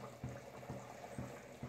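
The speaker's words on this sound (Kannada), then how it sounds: "ನೋಡಿ ಸಾರು ಕುದೀತಾ ಉಂಟು." A pot of fish curry bubbles at a low simmer, soft and faint, with gentle rhythmic blips of popping bubbles roughly every half second.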